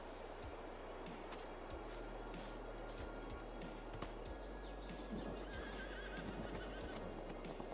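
Horses in a farming game on the Emerald Coast 4X map whinny repeatedly over steady clip-clop hooves and a low constant background hum, with some surf-like noise.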